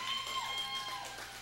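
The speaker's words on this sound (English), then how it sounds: "How about a big round of applause for the guitar man from the Barry?" An audience at a live swamp-rock show applauds for the guitar player, a steady patter of clapping under a sustained musical tone.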